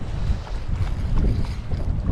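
Constant wind buffets the microphone with a low rumbling roar on a salmon fishing outing, steady throughout and without talk.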